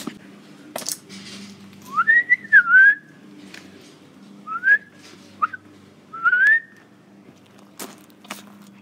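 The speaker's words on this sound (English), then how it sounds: "Gotta get better at whistling." Several short melodic whistled phrases, rising and falling, with pauses between them and a few faint clicks and knocks in a quiet room.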